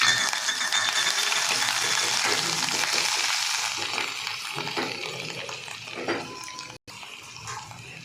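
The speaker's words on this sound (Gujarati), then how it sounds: "આપણું તેલ ગરમ થઈ ગયું છે. હવે આપણે એમાં ચપટી હિંગ મૂકીશું, આદુ મરચાંની પેસ્ટ અને મરચું મૂકીશું." A pinch of hing, ginger-chili paste and chili powder hit hot oil for a Punjabi corn-capsicum curry, giving a loud, close, crackling sizzle that gradually softens, broken by one brief dropout.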